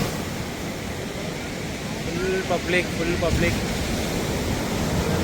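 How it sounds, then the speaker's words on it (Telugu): Sea waves wash onto a Kerala beach at sunset, a steady broadband surf noise with a swell of louder wash toward the end, while a voice speaks briefly over it. "ఆ మైక్ తోటి ఈ వేవ్ సౌండ్ తీస్తే"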